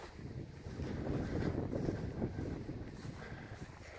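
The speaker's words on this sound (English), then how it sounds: "It's less breezy than it was maybe an hour or two ago. Well, as soon as I say that, it starts kind of picking back up." Outdoor breeze buffets the microphone in a low, rumbling rush that swells and eases over a few seconds, steady and fairly loud with no voices.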